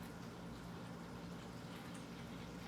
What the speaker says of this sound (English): In pouring the water